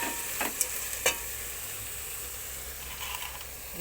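Onion kuzhambu ingredients with roasted chickpeas being stirred and sautéed in a pan, giving a soft steady sizzle with a few sharp spoon scrapes and taps near the start, quiet and close.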